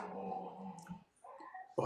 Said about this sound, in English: My dog started playing in the background.